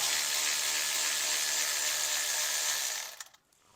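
A power ratchet whirring steadily as it spins a bolt out of a car transmission pan, close and continuous for about three seconds before cutting off, followed by a few faint clinks.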